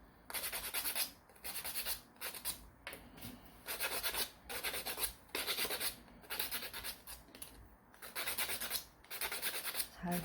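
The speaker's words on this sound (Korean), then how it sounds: "이렇게 사포질을 잘 하고, 요 나무 막대도" Sandpaper rubbed back and forth along a small wooden stick, a close, fairly quiet rasping in repeated strokes with brief gaps between them.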